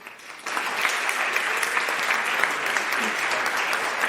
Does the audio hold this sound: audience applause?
yes